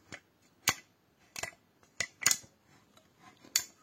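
Folding shovel head clicking through its notches: five or six sharp metallic clicks spaced about half a second to a second apart, close and fairly quiet, with no talking.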